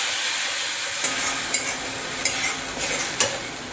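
Spices for a thin catla fish curry stirred in a pan with potato-boiling water, a soft steady sizzle broken by several sharp spoon scrapes against the pan.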